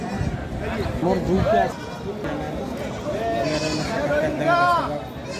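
Young native goats bleat repeatedly at a large North Bengal livestock market, with several wavering cries rising over a busy crowd and people talking nearby.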